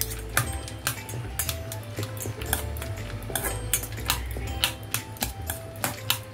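A spoon scrapes and clinks against a bowl in quick, irregular strikes while roasted chana chaat is stirred and mixed, close and fairly loud, no talking.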